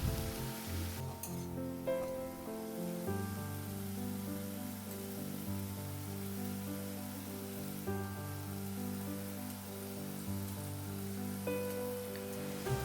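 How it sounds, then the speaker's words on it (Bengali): Boiled egg chow mein noodles stirred in a pan, a soft steady sizzle with spatula scrapes under a sustained background hum, moderately quiet and close. "এর মধ্যে আমি সেদ্ধ করা চাউমিনটা দিয়ে নাড়তে"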